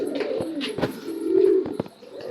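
Pigeons in a home loft coo in low, rolling bursts, one long steady coo standing out near the middle, with soft shuffling and wing rustles between calls and no talk.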